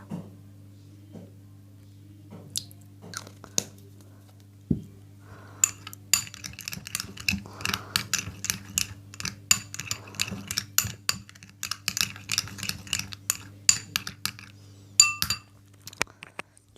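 A spoon works homemade cream with rose water in a bowl, giving a quiet start and then rapid, irregular clinks and scrapes against the bowl that continue without pause.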